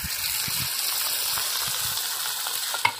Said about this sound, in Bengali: জিরে, আদা, পেঁয়াজ, রসুন বাটা হয়ে গেছে, সব এখন একসঙ্গে দিয়ে দেবো।